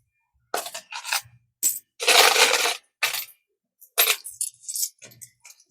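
Coins being counted out and dropped at a small shop counter: a quick, irregular series of bright metallic clinks and clatters, close and clear, with short silences between the drops.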